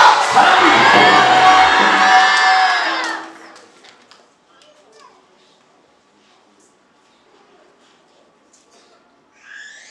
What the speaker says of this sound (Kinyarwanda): Tumwongere amashyi Yesu wapfuye akazuka.